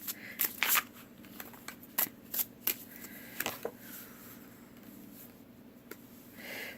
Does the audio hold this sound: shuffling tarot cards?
yes